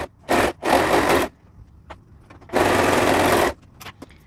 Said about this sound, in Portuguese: Vou fazer toda na overlock também.